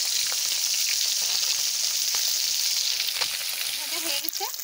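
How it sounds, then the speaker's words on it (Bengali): Koi fish fry in hot oil with a continuous, dense, bright sizzle close by, steady throughout with faint scattered pops. "মাছ কত সুন্দর ভাজা হয়ে গেছে"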